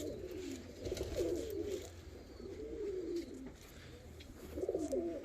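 Homing pigeons, never flown and notably large, coo softly in repeated rolling phrases, several bouts in a row at close range over a low steady background.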